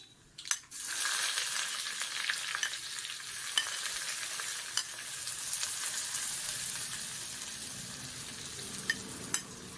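Onion tipped into hot oil with fenugreek and crushed pepper for a Tamil buttermilk curry tempering, giving a loud initial hiss that settles into a steady close sizzle, punctuated by sharp clinks of a spoon stirring against the pan.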